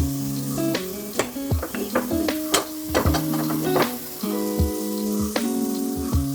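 Turmeric and fenugreek powders fry in hot oil with ginger for a ginger curry, a close sizzle broken by repeated scraping taps of a spoon against the pan, steady and fairly quiet with no talking.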